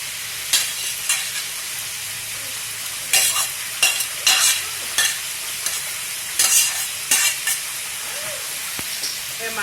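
Fried rice with green onion and bean sprouts stir-fried in butter, a steady hiss of frying broken by bursts of spatula scraping and tossing against the pan, close up, with no voices.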